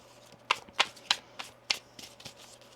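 Tarot cards riffled in a shuffle, heard as a series of about six crisp, fairly close flutters spaced roughly a third of a second apart, each a short burst of papery rattle, with a couple of softer ones trailing at the end.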